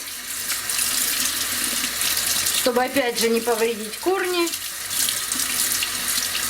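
Tap water runs steadily over orchid roots in a sink, a constant close splashing rush that continues under someone speaking in the middle.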